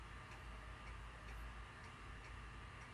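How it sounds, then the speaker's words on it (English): Quiet clock ticking heard in the horror mystery game Spirit Hunter: NG, a faint steady tick-tock repeating at a regular pace under a constant low background hum, with no voices. "I can hear the ticking of the clock."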